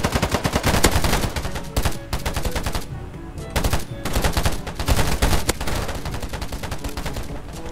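Loud, close automatic gunfire from a shooting video game, fired in rapid bursts with short gaps between volleys.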